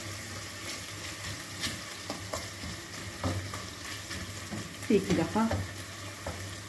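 Tomato paste sizzles in a pot of meat with green beans while a spoon stirs and scrapes, with a short spoken remark over the steady frying.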